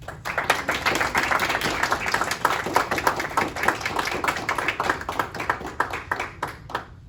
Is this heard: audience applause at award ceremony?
yes